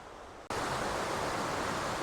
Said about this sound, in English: we have bushwhacked up to this waterfall right behind me